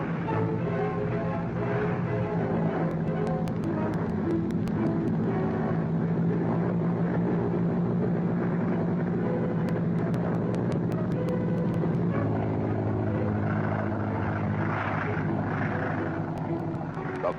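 A Boeing B-17 Flying Fortress bomber's piston engines roar steadily as it takes off from an airfield, a loud, continuous droning rumble with a brief shift in pitch partway through and faint crackling on top.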